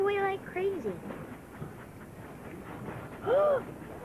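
Train rolling along the rails with a low, steady rumble and rattle, under short voiced tones and speech at the start and near the end.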